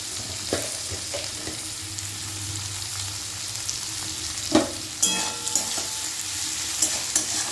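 Potatoes and onions sizzle steadily in a hot pan, with a few clinks and scrapes of stirring scattered through.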